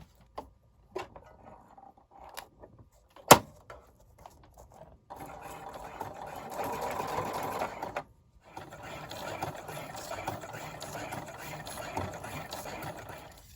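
Sewing machine stitching down the center of a paper ruffle strip, starting with a few clicks and taps, then a steady mechanical whir that stops briefly and resumes, fairly quiet and close.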